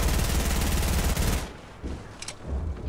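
Rapid automatic gunfire rattles loud and close for about a second and a half in an unbroken burst, then cuts off, leaving a few quieter clicks and knocks.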